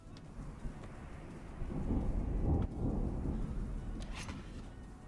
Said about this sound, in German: Der Sturm ist losgebrochen, bleib geschützt.